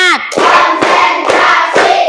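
A classroom of pupils claps hands together in steady rhythm, four sharp, evenly spaced claps ringing out close and loud right after a short spoken cue.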